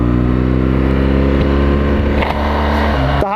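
A BMW R 1200 GS Adventure motorcycle rides slowly and gently through curves, its engine humming close and steady with slight pitch shifts, ending with a short sharp knock.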